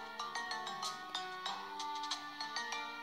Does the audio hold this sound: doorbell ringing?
yes